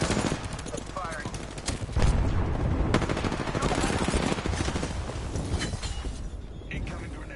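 Gunfire from the video game Apex Legends: dense bursts of rapid automatic shots with heavy booms. The shooting is loud and continuous and is layered over game sound effects.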